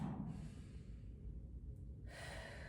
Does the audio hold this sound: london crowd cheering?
no